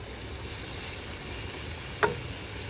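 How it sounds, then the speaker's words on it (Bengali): Bottle gourd stirred as it fries over high heat: a loud, even sizzle runs throughout, with one sharp scrape of the spoon partway through. "ঘন ঘন নাড়তে হবে। চুলার আঁচ একদম জোরে।"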